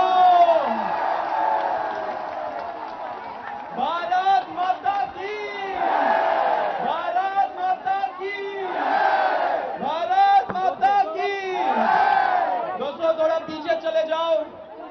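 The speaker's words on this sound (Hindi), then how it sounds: "जोरदार तालियां बजा दो।" Protest crowd roaring and chanting in waves, loud massed voices shouting slogans in rhythmic bursts, with cheering swelling and fading repeatedly and little distinct clapping.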